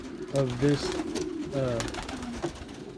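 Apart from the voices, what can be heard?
young pigeons cooing in a loft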